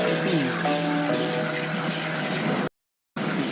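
A cartoon boat pulls away with a steady engine drone and a faint rising whine, then cuts to a brief silence before the hum returns.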